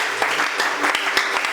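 Church congregation applauding together during a sermon, dense and loud sustained clapping filling the room, close and steady throughout.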